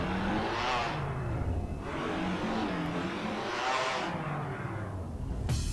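A fifth-generation Honda Civic with a turbo in GTA V revs hard in repeated swelling bursts, the engine climbing and falling several times with turbo whoosh, loud and close.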